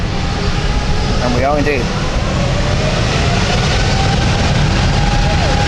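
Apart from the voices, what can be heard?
Helvetic airliner taking off from London City for Zurich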